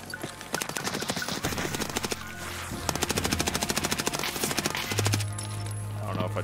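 Rapid automatic gunfire rattles in the video game Escape from Tarkov, in long, fast, evenly spaced bursts that run almost without pause, loud and close over a low background hum.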